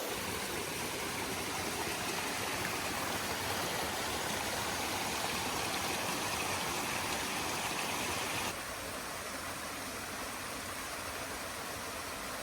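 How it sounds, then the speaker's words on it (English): Water from waterfalls and a jungle stream in the valley at Gunung Kawi, Tampaksiring, Bali, makes a constant broadband rush that drops to a softer, steadier flow partway through. "I love seeing all these waterfalls along the place and hearing the trickle of water"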